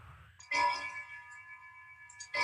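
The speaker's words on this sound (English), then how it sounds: "the heavy bell went on from 6 to 7" A heavy bell strikes the hours, one deep clang ringing out in a long humming decay before the next stroke begins, fairly faint and alone.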